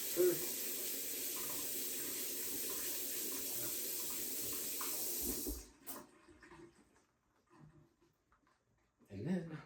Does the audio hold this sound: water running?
yes